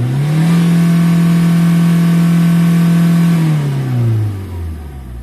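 A Peugeot car engine with a clogged particulate filter revs up to 5000 rpm during a forced regeneration, a loud, sustained high engine drone that holds steady and then winds down as the revs fall, with no voices.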